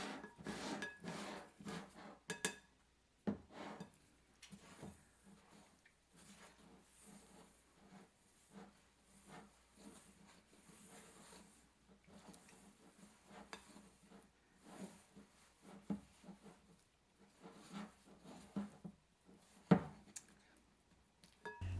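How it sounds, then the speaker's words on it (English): A spoon scrapes and stirs no-knead dinner roll dough in a bowl, folding the flour from the sides. The soft rasping, rubbing strokes and occasional light taps come quietly and steadily for about twenty seconds. "Scrape the flour from the sides of the bowl and finish combining."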